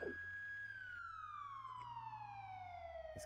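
A police car siren in a video game wails in a long descending tone, steady and fairly faint over a low engine hum, with no talking.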